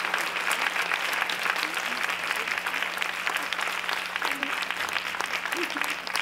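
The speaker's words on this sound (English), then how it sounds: "if you could please give her a round of applause along with me to say thank you" A conference audience applauds their chair in a steady, dense wash of clapping that holds from start to finish at even strength, with a faint voice underneath.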